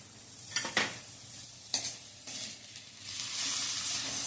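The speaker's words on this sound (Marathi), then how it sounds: "हे एकदा चांगलं परतून घ्यायचंय." Carrots, beans, cauliflower and potato are sautéed with tomato in a pan, a spoon scraping and tossing the vegetables in a few bursts before a steady sizzle settles in, close and moderately loud.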